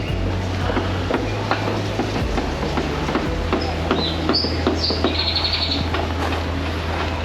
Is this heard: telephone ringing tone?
no